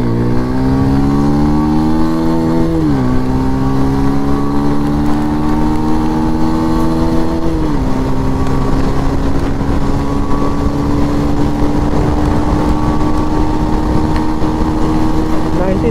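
A 2024 Bajaj Pulsar 125 E20 motorcycle running flat out at top speed, its engine droning loudly and steadily, with two shifts where the pitch dips and then climbs again, heavy wind rush throughout.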